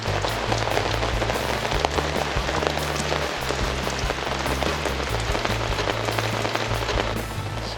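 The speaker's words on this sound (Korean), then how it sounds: "오닝에 빗소리 들으니까 좋은데요" Steady, dense rain patters on a taut camping awning overhead, a continuous close drumming with a low rumble underneath.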